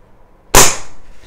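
A single sharp shot from a lever action rifle cracks loud and close, its report decaying quickly with a short tail of echo.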